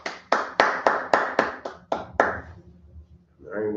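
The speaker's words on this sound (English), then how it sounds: "Clap it up." A church congregation at a Sabbath service claps in unison, about nine sharp, evenly spaced claps close by, then stops into a quiet pause before a voice begins.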